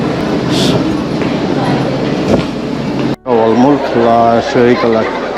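Steady loud rumble of a train in motion fills the scene, with a person talking over it in the second half.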